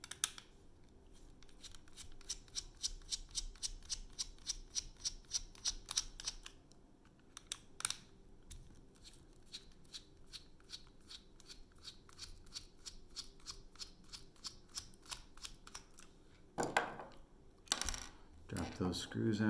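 Close, fast clicking and ratcheting of a screwdriver backing two screws out of a ProTuff Ultimate Series pole. It comes in steady rapid bursts, with a few louder clatters of metal parts and washers toward the end and no talking.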